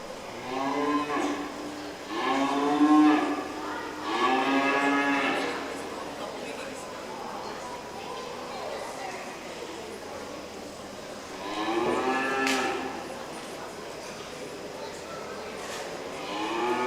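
Polled Hereford heifers in a 4-H beef show ring at a county fair give several long, drawn-out moos, some overlapping, with quieter gaps between them and faint talk in the background.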